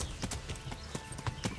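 Horse hooves clip-clop in a quick, even rhythm in the medieval video game Kingdom Come: Deliverance, a short run of fairly close hoofbeats with no speech.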